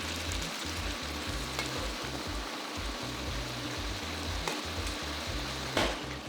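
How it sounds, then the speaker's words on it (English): Stir-fry sauce for an Asian-style chicken and tofu dish bubbling at a simmer in a single pan, giving a steady close sizzling hiss with soft low bubbling pops throughout and no one speaking. "When the sauce is boiling, reduce the heat to a simmer."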